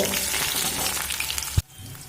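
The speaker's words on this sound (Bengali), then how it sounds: "তো পেঁয়াজটা একটু ভাজা হতে দেব" Chopped onion frying in hot oil in a pan, a steady close sizzle that cuts off abruptly after a soft knock.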